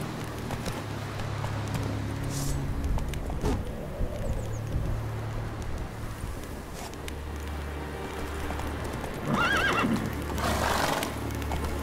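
Roach the horse in The Witcher 3 whinnies and gallops, with hooves drumming amid wind and ambient game sound and a couple of sharp neighs near the end.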